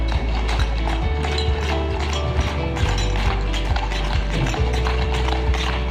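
Hooves of a police horse clip-clop in a steady run of sharp, regular taps over a dense, busy background hum, close and fairly loud throughout.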